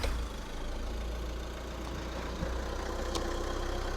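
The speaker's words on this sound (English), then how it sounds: "The engine's revving up anyway" A 2015 Skoda Rapid with an electrical fault runs with a steady low engine hum at idle, close and constant, with a small rise in revs and no talk.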